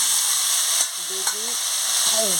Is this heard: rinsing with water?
no